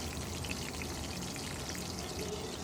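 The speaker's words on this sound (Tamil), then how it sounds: "ரொம்ப வதக்க வேண்டாம், கொஞ்சம் பச்சை வேக போகிற வரைக்கும் கொஞ்சம் வதக்கிக்கலாம்." Onions and a handful of green chilies sautéing in a pan as the base for pulao give a steady, close sizzle with fine crackling throughout, no voices over it.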